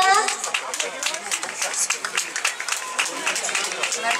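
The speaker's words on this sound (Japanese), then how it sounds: "もう一度大 きな拍手をよろしくお願い いたしま" Audience applause for a yosakoi dance team at a cherry-blossom yosakoi festival in Kumagaya, a dense, steady patter of many hands clapping throughout, with faint crowd chatter mixed in.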